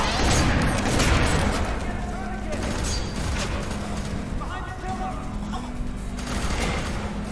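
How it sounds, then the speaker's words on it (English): Gunfire rattles through a firefight in F.E.A.R. 3, with heavy repeated blasts, mechanical clatter and booms packed densely together, loud and continuous under a player talking. "This shotgun, let's go."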